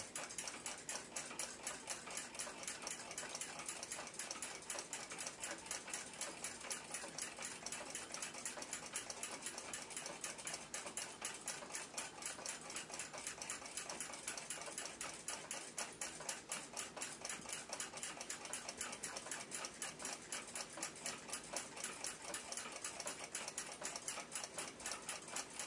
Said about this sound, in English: The whole movement has been running dry for quite a while.